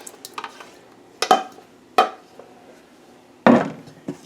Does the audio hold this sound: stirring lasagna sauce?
yes